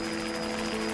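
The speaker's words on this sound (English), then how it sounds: "Her prayers are answered when she hears a helicopter" A helicopter drones steadily over a mountain crash site, its rotor a constant, fairly distant whir that does not fade or rise.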